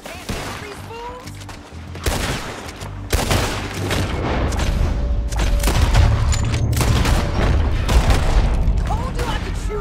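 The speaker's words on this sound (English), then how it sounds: "Told you I could shoot a gun, didn't I?" Dense gunfight in Red Dead Redemption 2: booming rifle and pistol shots fire in rapid volleys, loud and close, building into near-continuous fusillade over a low rumble, with bits of voice mixed in.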